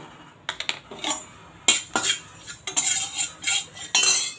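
Cumin and spices being dry roasted in a hot pan for annapodi, a spatula scraping and clinking against the metal in quick irregular strokes, close and fairly crisp, with no talking.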